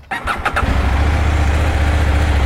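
A CFMOTO 800MT motorcycle engine cranks briefly, catches and settles into a steady low rumbling idle, loud and close.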